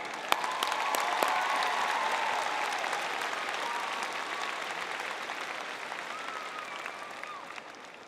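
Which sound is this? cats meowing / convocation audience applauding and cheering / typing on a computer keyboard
convocation audience applauding and cheering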